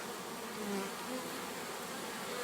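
Steady, soft buzzing of many honeybees, a continuous drone with individual bees swelling briefly nearer, no voices.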